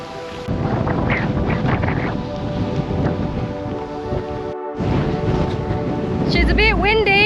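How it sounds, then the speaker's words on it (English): Strong wind gusts across a beach at Cape York, a loud, continuous roaring rumble hitting the microphone, with a brief dropout partway and a person talking under the wind noise. "She's a bit windy, but we can see it."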